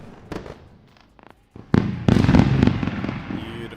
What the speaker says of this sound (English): We're gonna go with a round of fireworks.